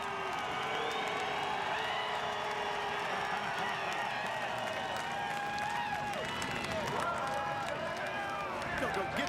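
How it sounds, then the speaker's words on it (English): A crowd cheers at a NASCAR Busch Series race at Kansas, a steady, far-off mass of voices and whoops from the grandstands, with a commentator speaking over the top. "Now, listen to this crowd. They appreciate what they just saw."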